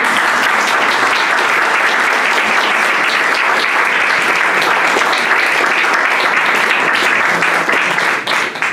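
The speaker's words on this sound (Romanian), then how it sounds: "Dacă v-a plăcut, puteți aplauda." An audience in a chapel claps in sustained, dense applause that stays loud and even before tapering slightly at the end, with no speech over it.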